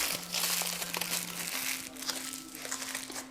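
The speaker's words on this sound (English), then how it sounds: "You might want to take some of this gold leaf and put it on another piece of tin foil." Tin foil is crumpled by hand, a close, continuous crackling crinkle that swells and fades, with a steady low hum running underneath and no voice.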